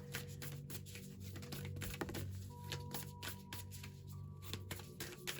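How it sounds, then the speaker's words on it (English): Tarot cards are shuffled by hand in a continuous, quiet riffling and patter of dense little flicks and taps over about five seconds, close but faint, with no talking. "Shuffle, shuffle, shuffle, shuffle."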